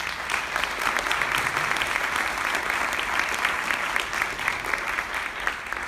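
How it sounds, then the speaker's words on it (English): A room full of people at a congressional candidate forum applauds the candidates, steady dense clapping that holds at an even level for several seconds, with no voices over it. "everybody may applaud the candidates"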